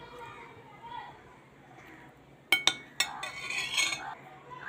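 A spoon clinks and scrapes against a metal cooking pan while mashing cooked taro mixed with oil-fried chilies and onion. Several sharp clinks come close together, followed by a stretch of rougher scraping, over a low background hum.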